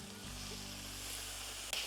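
A quiet, steady sizzle of onions frying on a hot Blackstone griddle, a continuous hiss with a low hum underneath and a brief clatter near the end.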